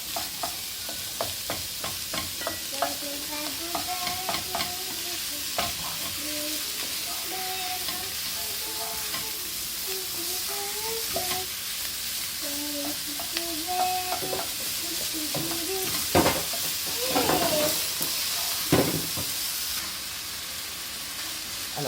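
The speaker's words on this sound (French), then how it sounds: "séparer un petit peu la viande hachée pour que ça se mélange" Minced meat fries and sizzles in a pan while being stirred and broken apart, a steady close hiss with scraping strokes and a louder stretch of stirring near the end.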